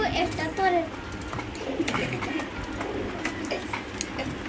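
Pigeons on a pigeon farm coo and call close by, a soft, steady murmur of bird sounds, with a voice talking over them.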